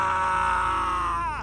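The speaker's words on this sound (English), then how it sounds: "One day, while I was reading at home, I heard horrifying screams in the yard." A drawn-out, high-pitched scream rings out loud and steady in a yard, holding one sustained wail for over a second before its pitch wavers and bends downward at the end.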